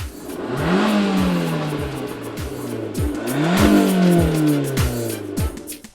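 A convertible grand touring sports car engine revving hard and rising through gears twice, loud and throaty with crackling exhaust pops, passing close by.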